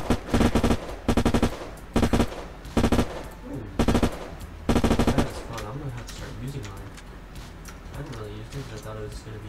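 Loud close bursts of submachine gun fire in the video game Unturned, several rapid automatic volleys in the first five seconds, then a voice talks over quieter background sounds.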